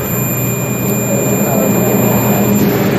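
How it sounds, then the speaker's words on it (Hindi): A multimeter's continuity beep sounds while a motorcycle magneto charging coil is tested: one steady, unbroken high tone runs through the whole moment, half-buried under loud broadband hiss and rumble. "इसमें बीप बजने लगा है यानी कि आवाज़ आने लगी।"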